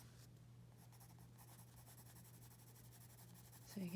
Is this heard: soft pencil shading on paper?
yes